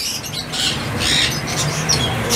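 Doves and other caged birds in a bird market shop in Multan, with close chirps, squawks and cooing overlapping in a busy chorus.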